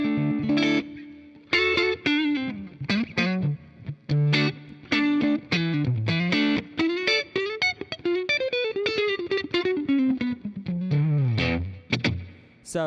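Electric guitar played through a Line 6 Helix with a boost placed before the drive, heard as loud, driven riffs with sustained bent notes and short choppy phrases, with no talking over it.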